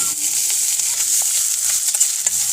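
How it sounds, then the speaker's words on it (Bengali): Chopped onion, garlic and green chili fry in soybean oil with a steady, close bright sizzle, broken by a few soft stirring scrapes, with no voices. "এবার পেঁয়াজটা আমরা হালকা বাদামি করে ভেজে নিব"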